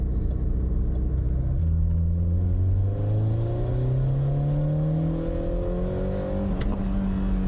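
A modified car engine, stripped of about ten sensors, revs up hard, its pitch climbing steadily through the range in a loud, continuous roar close to the microphone, with a brief sharp click near the end.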